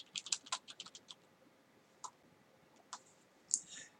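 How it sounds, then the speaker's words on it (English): Computer keyboard keys click in a quick burst of taps, then a few scattered single presses after a pause, faint and close in a quiet room. "I'm going to go ahead and type in define hermeneutics"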